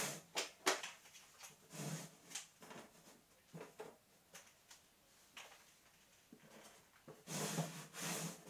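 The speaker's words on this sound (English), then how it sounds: "Now you can slide your doors into place with the two outside doors in the outside dados" Wooden sliding doors being fitted into the dados of a hanging overhead garage storage shelf, making a series of close, dry wooden rubs, scrapes and light knocks at irregular intervals, with no speech.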